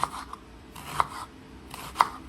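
A knife chops shallot on a cutting board, giving three crisp, evenly spaced strikes about a second apart, close and clear over a quiet kitchen background.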